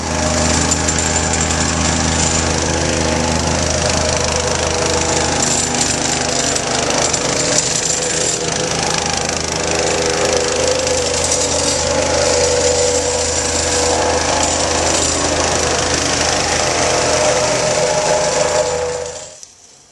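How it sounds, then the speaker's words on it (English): A plate compactor packs the gravel base for a paver patio, a loud, continuous vibrating rumble and rattle that runs unbroken at close range before cutting off at the end. "we'll compact it in 2-inch lists and make sure everything is perfectly flat"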